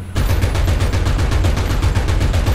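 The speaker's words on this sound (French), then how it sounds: "Vous pouvez faire ça même avec la mitrailleuse lourde." A heavy machine gun on a VBCI-2 armoured vehicle in a video game fires a rapid, sustained burst of evenly spaced, loud, close shots with no pauses.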